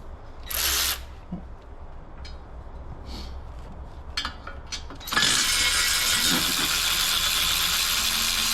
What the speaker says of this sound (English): We'll take the manifold off now, take it over to the bench, and we'll finish it off there.